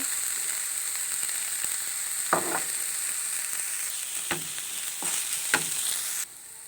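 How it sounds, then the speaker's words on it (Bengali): Minced meat fries in butter with a constant hissing sizzle, broken by a few sharp stirring scrapes before the sound drops quieter at the end. "দেখেন মাংসগুলা মাংসের কিমাগুলা ভাজা হয়ে গেছে"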